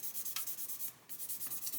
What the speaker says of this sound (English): I'm just gently sanding this away